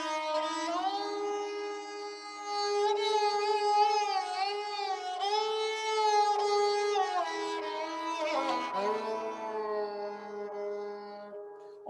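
A sarangi plays a slow, peaceful melody in the calm Shanta mood, its bowed strings sliding smoothly between sustained notes with a gentle, even loudness and no voices.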